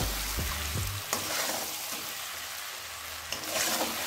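Egg curry with salt and turmeric being stirred in a pan over low flame without water, soft sizzling with a few scraping strokes at the start and near the end, no voices.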